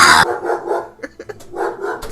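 A voice imitates wolves growling and snarling, a short run of rough, throaty bursts with brief gaps, close and fairly loud.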